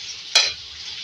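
A brief spoon scrape and sizzle as four medium tomatoes are stirred and cooked in a pan for a fish recipe: a single quick stir over a faint background.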